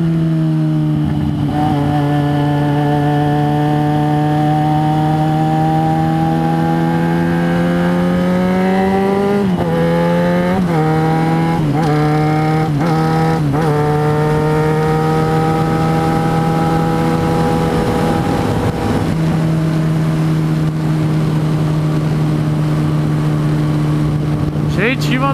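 Yamaha XJ6 motorcycle riding along with its engine revving: a loud, steady engine drone whose pitch dips and rises through several throttle blips partway in, with a voice speaking over it.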